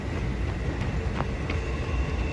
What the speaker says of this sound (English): Some days this train literally stops right on the crossing and just sits there for like an hour.